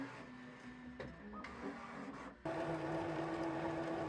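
A multi-color 3D printer runs close by with a steady mechanical hum and whirring motor tones that shift in pitch partway through, with no talking.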